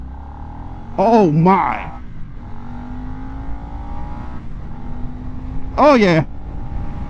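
A 2025 Nightster motorcycle accelerates from a standstill, its engine drone climbing steadily in pitch through the gears, while a rider's voice briefly exclaims over it twice.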